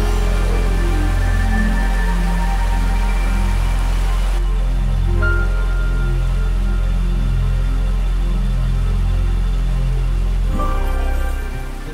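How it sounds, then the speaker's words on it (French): Light rain falls outdoors in Bulgaria as a steady, even patter with a constant wash of drops throughout, and no voices. "Cette intéressante visite se finira sous une petite pluie"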